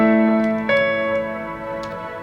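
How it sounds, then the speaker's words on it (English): Sustained synth pad chords from a cover song arrangement, held as a steady harmonic layer that shifts chord once early on, with faint light transients on top; no voices present. "So you can listen to the pads that we are using here."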